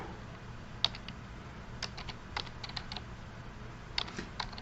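Typing on a computer keyboard while entering numbers for a math lesson, sparse light key clicks in small irregular bursts, faint and close, over a low steady hum with no talk.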